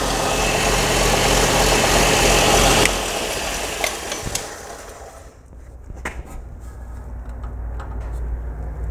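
A Craftsman belt grinder motor hums loudly and steadily, then drops away and winds down, leaving a quieter hum broken by a few clicks and knocks.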